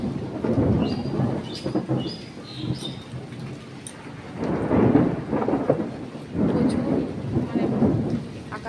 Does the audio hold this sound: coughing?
no